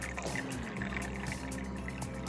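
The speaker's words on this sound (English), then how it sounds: "Now you fill the tea kettle back up with a little bit with more cold water" Cold water pouring steadily from a tap into a tea kettle to refill it, a continuous bubbling splash close by for a couple of seconds with no talking.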